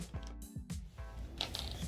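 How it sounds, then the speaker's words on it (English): Fabric scissors cut along the back seam of a sewn upper skirt, several quick close snips and crisp rustles of cloth in an uneven rhythm, with no voices. "I'm going to go ahead and cut along the back seam of the skirt the whole way."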